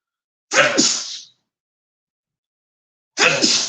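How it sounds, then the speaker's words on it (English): A person sneezes loudly and close, one sharp explosive burst, then silence for about two seconds before a second sneeze begins. "that was me sneezing"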